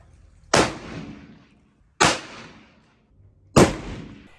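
Three loud rifle shots from a Mossberg Patriot bolt-action chambered in .308, firing Hornady American Whitetail ammunition, each a sharp crack with a short decaying tail, spaced about one and a half seconds apart with quiet between.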